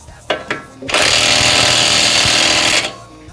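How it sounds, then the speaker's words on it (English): An impact wrench tightens the tie rod end nut on a Toyota Corolla, with two short taps followed by one loud, continuous hammering burst of about two seconds. "honestly I just run them down with the impact"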